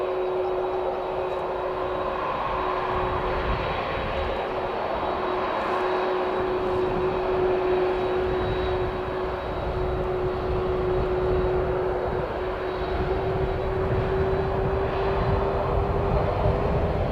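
Airplane engines run at Christchurch International Airport on a wet, windy day, a loud, steady jet roar with a sustained whine held for the whole stretch and no talking.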